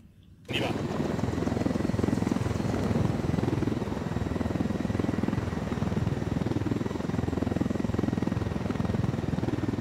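A helicopter in the video game Ghost Recon Wildlands flies with a loud, continuous rotor and engine roar. It starts abruptly after a brief moment of quiet and holds steady throughout.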